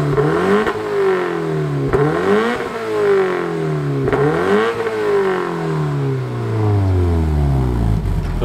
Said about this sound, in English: Rev it up, Chris.